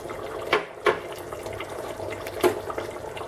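Liquid is poured into a pot of Kuttanadan-style duck curry, a splashing, gurgling stream with a few louder spurts.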